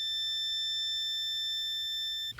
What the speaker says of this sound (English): if I hold these together and I flip to continuity mode, I hope you can hear that little beep